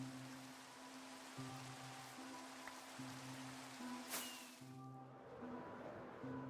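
Steady rain patter from a video game, falling over an outdoor field where flowers are being picked, a soft continuous hiss under low game music tones with a brief brighter swish midway.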